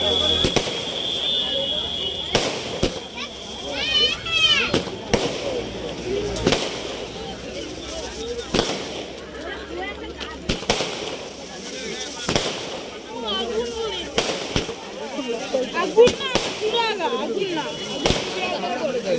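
Large fireworks, including big tubri fountains, burst and crackle over and over at a Basuli temple celebration, sharp loud bangs in irregular bursts, with people talking and shouting in the background.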